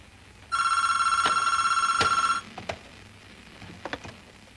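A telephone rings in one sustained bright electronic burst of about two seconds, then stops, leaving faint clicks and handling noises in a quiet room.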